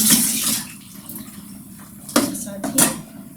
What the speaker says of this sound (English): You can first empty the old dishwater and just rinse it of the old dishwater a little bit.